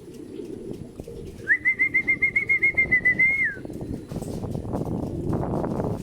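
Racing pigeons back at the club loft after a 73 km training flight near Calamba, Laguna; a nearby bird gives a rapid pulsing call lasting about two seconds over a busy background of shuffling, fluttering and yard noise.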